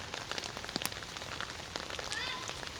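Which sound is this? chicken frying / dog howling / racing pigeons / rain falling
rain falling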